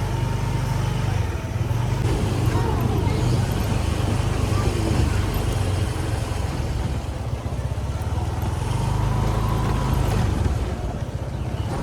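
A motorbike idles and turns back in a residential street, its engine a steady low rumble close by, with someone talking over it.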